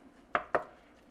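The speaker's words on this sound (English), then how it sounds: "Sausage is getting there, folks. We're going to keep chopping it up, chopping it up, chopping it up." Sausage being chopped up in a pan for gravy: two quick, sharp metal-on-pan scrapes close together, with a quiet sizzle underneath.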